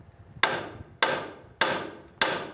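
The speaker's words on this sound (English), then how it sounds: "you can come in with a hammer right on this arm" Four sharp hammer blows strike the steel steering arm of a 2003-2011 Honda Element to free a stuck ball joint, evenly spaced about half a second apart, each ringing briefly before fading.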